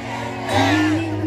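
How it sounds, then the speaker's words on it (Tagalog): A crowd at a political rally in the Philippines shouts and cheers, a loud surging roar of many voices that swells partway through the short burst. "Sigaw ng taong bayan, Tatay Digong, bring him home!"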